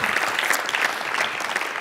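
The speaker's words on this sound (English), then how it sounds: "Another big round of applause for you" A conference audience gives a steady round of applause, dense, even clapping from many hands throughout, with no voices over it.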